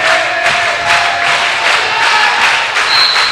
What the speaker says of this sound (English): And that Cougar clap again